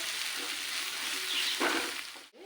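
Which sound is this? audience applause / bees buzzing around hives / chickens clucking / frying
frying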